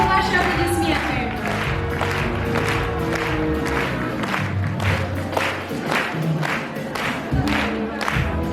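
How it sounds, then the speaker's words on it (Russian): A concert hall audience applauds at a university choir contest, dense sustained clapping with scattered cheers filling the whole stretch at an even, loud level. "Ваши аплодисменты."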